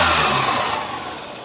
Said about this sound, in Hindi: हमारा बाइक बिल्कुल कंप्लीट हो चुका है और आप इसका साउंड सुन सकते हैं